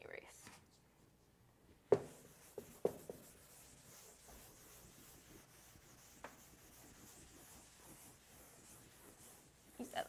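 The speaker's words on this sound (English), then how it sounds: "I'm gonna erase." A math teacher erases writing from a classroom board, with faint rubbing and brushing strokes and a few sharp taps at a low level throughout.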